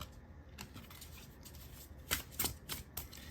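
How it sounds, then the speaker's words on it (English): Crisp riffling and snapping of cards being shuffled, with quick flutters building into several sharp bursts near the end, no voices. "let me shuffle a card for you"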